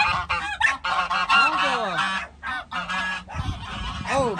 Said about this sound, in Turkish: Kaz boğuluyor.